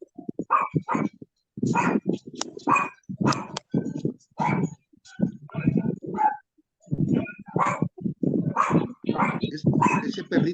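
A small dog barks and yips repeatedly in short bursts with brief pauses, loud and close, mixed with some talking.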